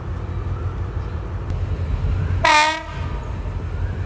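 A GEK diesel locomotive arrives with a steady rumbling train noise, then its horn blasts once loudly for about half a second partway through before the rolling rumble carries on.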